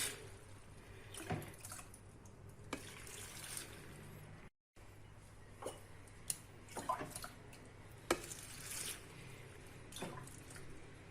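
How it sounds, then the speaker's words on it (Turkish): Brine of salted water poured into a plastic drum of cracked green olives, a soft continuous trickle and splash with scattered drips, close and fairly quiet, with one brief dropout midway. "Şimdi onu da suyla tuzlu suyla buluşturuyorum arkadaşlar."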